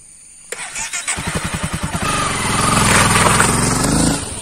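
A motorcycle engine being started after a clutch cable repair: a sharp click, then a rhythmic chugging crank that catches and settles into a loud, steady idle close by.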